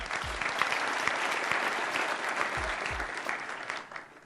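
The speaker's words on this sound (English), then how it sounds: "Now, give yourselves a round of applause for making it here." Forum attendees at a health leadership event applaud themselves in a sustained, dense burst of clapping from a sizeable crowd, fairly loud and even throughout with a few low thuds beneath, tapering slightly at the end.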